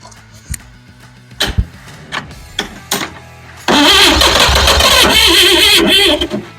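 A straight-six car engine, swapped in for a big block, gives a few clicks and cranks, then catches and roars into a loud, steady idle close by that runs for several seconds before cutting off.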